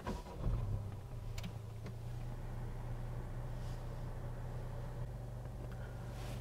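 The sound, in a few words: Honda Civic 1.5 VTEC Turbo engine starting and idling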